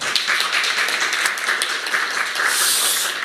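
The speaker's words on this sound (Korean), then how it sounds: "박수 부탁드리겠습니다." Audience applause at a panel discussion on community independent-living infrastructure for disabled people, a steady patter of many hands clapping at close range for a few seconds, with no talking.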